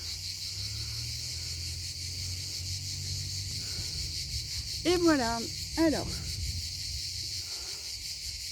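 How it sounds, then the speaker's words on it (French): Outdoor cicadas singing in a steady, high-pitched continuous drone, with a brief voice speaking over it midway. "au chant des cigales."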